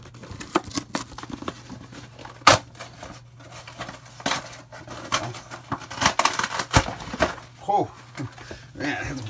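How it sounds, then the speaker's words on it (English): A cardboard box cut down while unboxing a Zippo mystery box, with irregular sharp cuts, rips and rustles, some loud close bursts, mixed with someone talking and a low background hum. "I'm just going to cut down the box here."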